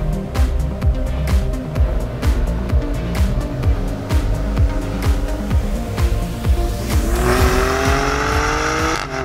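A 2023 Maserati Grecale Trofeo SUV launches hard with launch control, its engine roaring and revving up through rapid gear changes, loud and close from inside the cabin.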